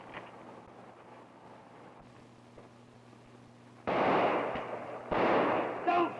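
A gunshot rings out loud and close, followed a moment later by a second sharp blast, both cutting through a quiet background hum.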